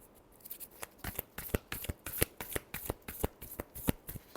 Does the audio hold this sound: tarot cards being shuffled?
yes